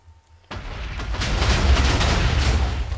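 Explosion in the video game Minecraft, a sudden loud blast that erupts after a brief quiet moment and rolls on as a dense, sustained rumbling roar.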